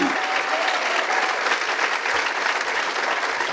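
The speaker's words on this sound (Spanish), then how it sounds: "Fuertes aplausos al Señor." A church congregation claps loudly and steadily throughout, a dense crowd applause filling the whole moment with a faint murmur of voices beneath it.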